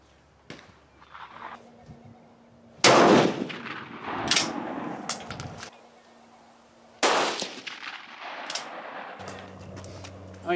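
Swiss Model 1940 K31 rifle fired at a range, two loud sharp shots spaced apart, each with a ringing tail, between bolt clanks and metallic handling sounds.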